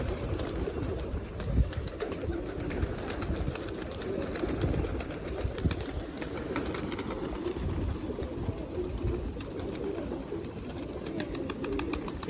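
A flock of pigeons in a loft, with soft cooing and fluttering wings blending into a steady, busy murmur that continues throughout without speech.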